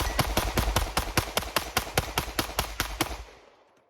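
A Shadow Systems pistol fires Remington ammunition from a Glock magazine in a rapid, steady string of about seventeen sharp, loud shots that cycle without pause, then the sound dies away.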